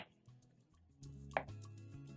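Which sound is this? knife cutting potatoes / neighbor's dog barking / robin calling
knife cutting potatoes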